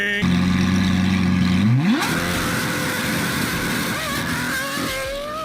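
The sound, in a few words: race car exhaust revving, video game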